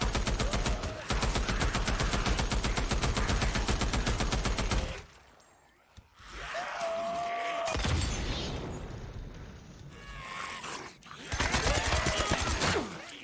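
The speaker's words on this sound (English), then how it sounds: "I popped some shots off." Video game gunfire aimed at a horde: rapid automatic bursts at a steady rate for about five seconds, then quieter spells with a few shots and whooshing effects, and another fast burst near the end.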